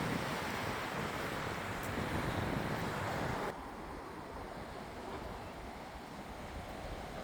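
Ocean waves wash in at low tide on a New Zealand beach, a continuous broad rushing surf mixed with wind, steady and fairly distant.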